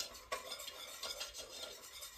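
A spoon stirs macaroni and cheese sauce in a pan, soft scraping strokes repeating in an irregular rhythm at close range, quiet with no voices.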